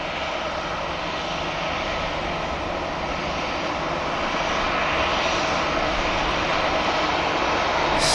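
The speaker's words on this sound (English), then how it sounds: "Ryanair's just taken off in front" A Ryanair airliner takes off at Manchester Airport, its jet engines building a loud, continuous roar that swells gradually without any voices.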